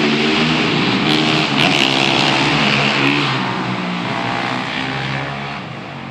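Motorbikes riding by outdoors on a windy day, a loud steady engine drone with revving that swells and then slowly fades as they pass, with wind noise across the whole stretch.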